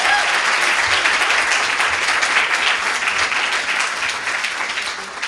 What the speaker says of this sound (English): So, big round of applause to you guys.